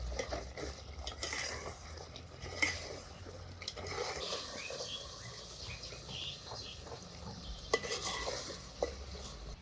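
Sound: stirring and frying mutton with potatoes and spices

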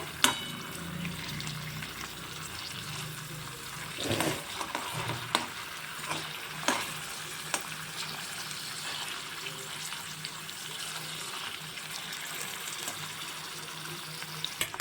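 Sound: paneer frying in ghee

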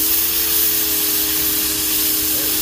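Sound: Powryte 3800R electric pressure washer spraying a dark spot

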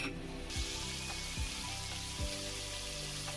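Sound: spice paste with prawns frying in a pan

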